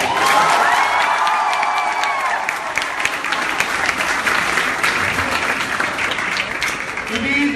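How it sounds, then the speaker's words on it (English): A crowd of about 300 O level students applauds and cheers in a hall, loud dense clapping with shouts and whoops layered on top, sustained for several seconds. "can I have a louder round of applause for that guy?"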